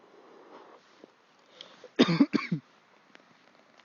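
A person coughs several times in a short, close burst after a quiet stretch with faint low background murmur.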